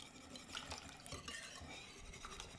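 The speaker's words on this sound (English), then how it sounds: "give this another little stir" A spoon stirs a bacon, jalapeño and ranch breakfast casserole, making a continuous wet swishing and scraping close by, with no talk.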